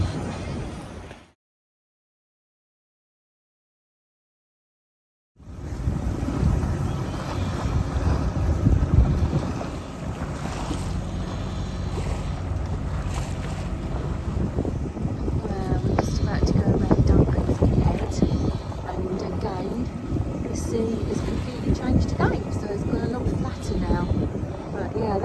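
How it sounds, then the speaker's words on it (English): A sailing boat slams into waves in rough sea off the northern coast of Scotland, a constant roar of wind and water with repeated heavy thuds, after a short stretch of silence at the start. "We were just slamming into the waves."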